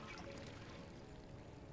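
Water pouring from a water pump in a video game, a steady broadband splashing gush lasting under two seconds at an even level with no voices.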